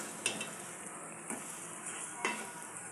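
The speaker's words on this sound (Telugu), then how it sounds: "ఇప్పుడు దాన్ని అంతా నేను కలిపెడుతున్నాను" Fish pieces fried with masala being stirred in a hot pan, a steady close sizzle running throughout with a few soft scrapes of the spoon.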